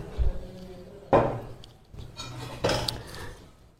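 Peanut chilli powder is stirred in a kadai for Rayalaseema palli karam podi, with a few close metallic scrapes and clinks of a spoon against the pan in short strokes over a low background hum.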